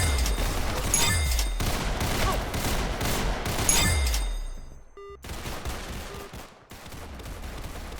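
Rapid gunfire bursts from a video game pistol, loud and close, crackling in quick volleys with brief pauses and a short quiet gap before the shooting resumes.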